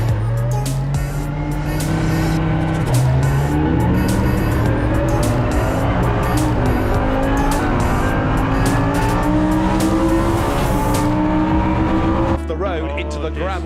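Lamborghini Super Trofeo race cars at Monza braking hard into a tight corner, engines roaring loud and close with shifting pitch and tire squeal, a continuous racing din that cuts away near the end.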